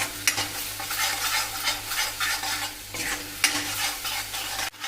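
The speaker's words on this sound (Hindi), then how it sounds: "जब तक लहसुन और अदरक का पेस्ट भून नहीं जाता है तब तक मैं इसको चलाते रहूँगी।" A thick garlic and ginger paste sizzles and fries in a pan while a utensil stirs and scrapes through it in repeated strokes, close up.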